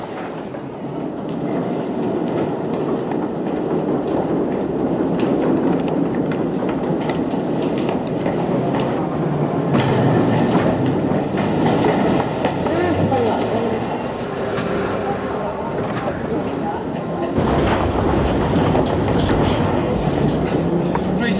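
A train running southbound from Wembley Park makes a steady rumbling clatter with rhythmic wheel clicks throughout. A voice talks over it.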